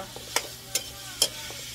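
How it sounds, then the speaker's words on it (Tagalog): Chicken being sautéed for tinola, a Filipino chicken soup, with a spoon scraping and stirring the pan in three distinct strokes over a soft, steady sizzle close by. "Sabay na natin siya sa ginisa."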